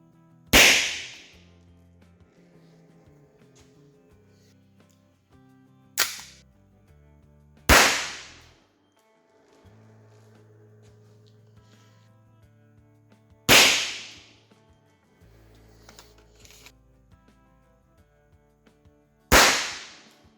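An ISSC alarm pistol fires through a chronograph: five loud, sharp cracks ring out close by. They are separated by several seconds of quiet, with faint background noise in the gaps.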